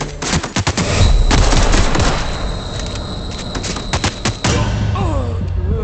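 Gunfire in The Outer Worlds video game: rapid bursts of shots crackle loudly at the start, then repeated single reports and thuds continue over a steady background of game ambience.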